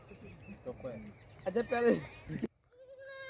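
A Rajanpuri milking goat on a farm gives a couple of nasal bleats mid-clip, mixed in with someone talking nearby, followed by a brief high, thin call.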